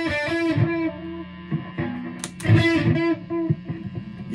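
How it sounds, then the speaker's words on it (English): Epiphone Les Paul Traditional Pro III Plus electric guitar plays distorted notes and chords through a delay effect, each trailed by echoing repeats that smear into the next phrase, loud and up close. "Hear more of the delay."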